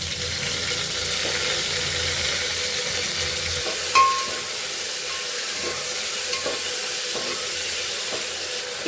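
Chopped onions fry with masala in a pan, giving a close, steady sizzle with light stirring scrapes and a brief clink partway through.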